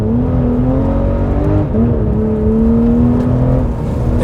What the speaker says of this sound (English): It blips the throttle on downshifts to rev match and hold the slide.